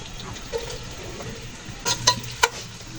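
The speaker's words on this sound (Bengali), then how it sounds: "আমরা তেল গরম হওয়ার পর পেঁয়াজটি দিয়ে দিয়েছি" Thinly sliced onions hit hot soybean oil in a pan, giving a soft steady sizzle with a few sharp clinks of a utensil against the pot near the end.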